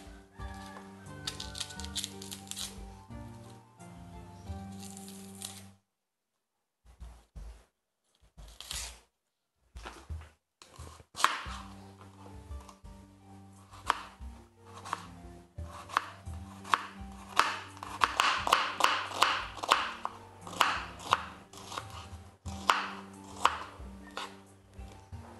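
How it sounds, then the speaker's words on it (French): A knife chops onions on a board in bursts of quick, close taps, pausing after a few seconds, then returning in a dense, louder run of strokes, with no one speaking. "Maintenant, nous coupons nos oignons"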